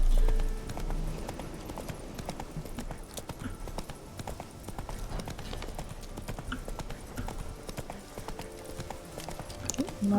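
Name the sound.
horse Roach galloping in The Witcher 3 video game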